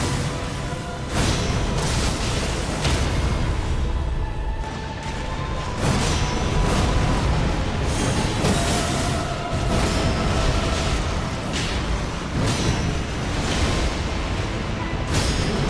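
Booming explosions set off during a boss fight against the Night King in Elden Ring Nightreign keep erupting with dense crashes and whooshes, loud and continuous with repeated sharp impacts throughout.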